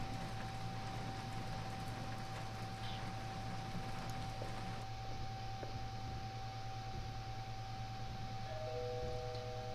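A doorbell rings in the horror video game The Darkest Woods, set against a steady droning ambience and a rain-like hiss that run throughout the scene.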